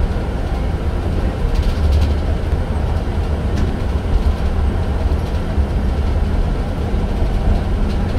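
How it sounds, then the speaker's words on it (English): Onboard a Volvo B7R high-floor bus with a Volgren SC222 body in Newcastle, a steady loud low engine drone and road rumble fill the cabin continuously, with no talk. "Let's have a listen to this bus now."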